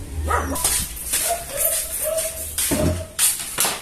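Several dogs at a dog shelter bark, yip and whimper close by in short overlapping bursts, with some shuffling movement.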